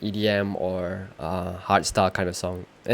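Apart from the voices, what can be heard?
No everyday noise stands out behind the speech.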